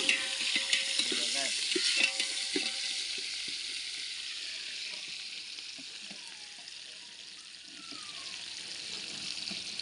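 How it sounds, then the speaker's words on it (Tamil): Onions frying in a pan for mango pachadi: a steady, fairly soft sizzle with a few clinks and stirring scrapes near the start, and no talking. "வெங்காயம் ஒரு கையில் வெங்காயம் போட்டாது வதக்குவோம்"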